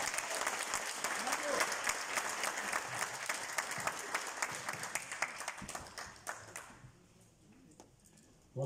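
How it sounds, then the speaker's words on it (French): Audience at a conference debate at ULB in Brussels claps steadily, with dense close applause that thins out and stops near the end. "je voudrais même vous demander d'applaudir encore davantage"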